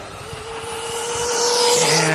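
A Proline MT 4x4 RC monster truck accelerates hard into a wheelie, its electric motor whine climbing steadily in pitch and growing louder over about two seconds, close by and without talk.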